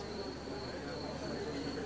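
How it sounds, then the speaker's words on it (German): Crickets chirping outdoors at night, a steady thin high trill running behind a faint hum of background noise, quiet and continuous. "Och, und die Grillen zirpen."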